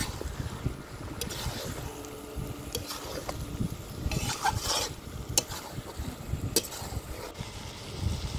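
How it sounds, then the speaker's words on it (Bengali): Chicken pieces frying in a pan while being stirred, with a steady low sizzle under repeated scraping and clattering strokes of the spoon, close up and continuous with no talk. "দিয়ে ভালো করে মাংসটাকে কষে নিতে হবে"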